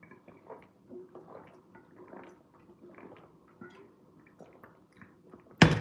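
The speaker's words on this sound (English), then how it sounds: "So we're gonna drink some water here." A person drinks refrigerated water, with soft gulps and swallows repeating quietly and close for several seconds before an abrupt loud noise at the end.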